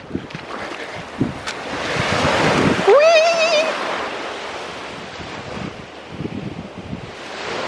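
Ocean waves washing onto a Maldives beach at sunset, a broad close rush of surf with wind buffeting the microphone, and a brief tonal squeal in the middle.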